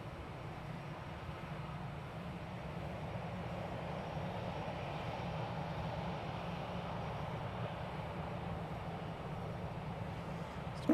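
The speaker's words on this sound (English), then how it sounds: "Right in front of us is American Flight 1497" An American Airlines Airbus A319 at DFW Airport gives off a steady, even jet-engine rumble and roar that holds for the whole stretch at a moderate distance, with no voices.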